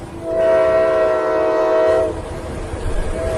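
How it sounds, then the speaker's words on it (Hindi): A heavy freight train passing on a nearby railway track sounds a loud, sustained horn blast for about two seconds, followed by a low rolling rumble. "तभी पास के रेलवे ट्रैक से एक भारी मालगाड़ी गुजरी।"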